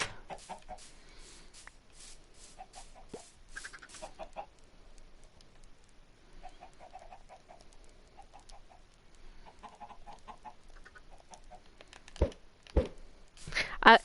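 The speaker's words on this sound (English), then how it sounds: "Lots and lots of chickens." Minecraft chickens cluck in short repeated bursts throughout, a dense farmyard chorus at moderate level, with a few louder crinkling clicks near the end and a voice talking faintly at times.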